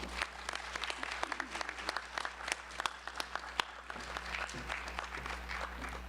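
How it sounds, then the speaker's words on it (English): An audience at a medical college white coat ceremony applauds Dr. Robinson, with many distinct claps over a low steady hum, moderately distant and sustained throughout, with no speech on top. "Let's give Dr. Robinson a round of applause."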